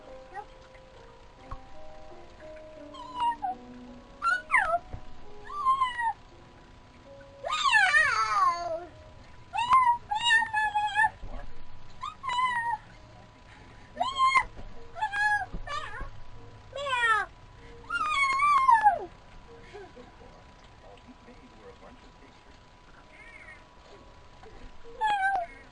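A kitten meowing repeatedly indoors in an apartment, with a string of high, rising and falling cries, some drawn out and some short, spread irregularly across the span, with faint household background and occasional soft voices.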